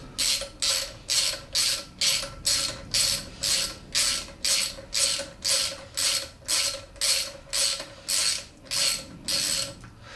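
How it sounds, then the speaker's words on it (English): Rhythmic ratcheting clicks from a socket wrench tightening sprocket bolts on a Triumph Scrambler 1200 during a chain and sprocket change, about twenty evenly spaced bursts close up with no talk. "then I'm tightening them up"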